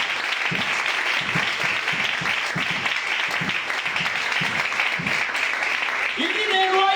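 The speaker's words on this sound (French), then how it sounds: "Tu vas acclamer très fort pour le Seigneur de Dieu." A church congregation at a seminary gathering applauds loudly and steadily for the Lord, with dense sustained clapping and voices mixed in, and a tonal cry rising near the end.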